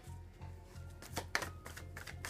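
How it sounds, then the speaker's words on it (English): Tarot cards are shuffled by hand in a quiet room, giving soft, repeated riffling and slapping bursts in a loose rhythm under a low steady hum. "We're gonna keep flipping these cards. Let me shuffle them."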